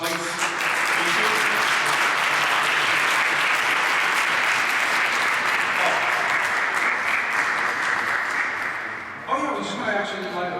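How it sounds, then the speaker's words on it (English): A crowd applauds loudly and steadily at a media briefing, the clapping holding for about nine seconds before fading as people start talking. "a big round of applause for the place"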